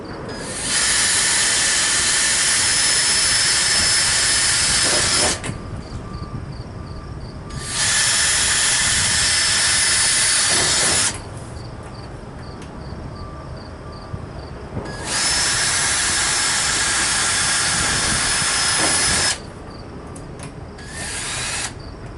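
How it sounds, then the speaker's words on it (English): A power drill bores holes into a plastic compost tumbler door in three long, loud whirring bursts, each separated by a few seconds of quiet. "Drill a couple more holes, and again you want to make sure that your fingers are far away from where you're actually drilling into that door"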